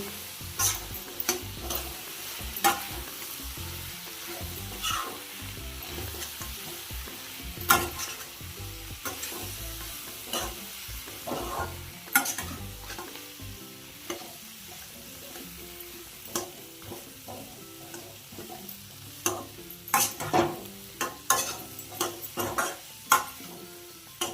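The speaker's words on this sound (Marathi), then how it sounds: "आता त्याच्यावर तळलेलं पनीर टाकते आता ढवळायचं चांगलं ढवळून घ्यायचं" Fried paneer chilli is stirred in a hot pan: a continuous sizzle runs under many quick scraping and knocking strokes of the spoon, close and busy, with no talking.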